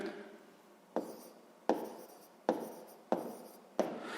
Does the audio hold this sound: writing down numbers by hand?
yes